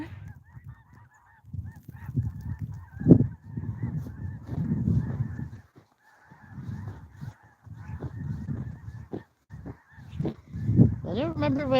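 Snow geese honk repeatedly in irregular bursts, a flock calling nearby with overlapping cries and brief pauses between volleys.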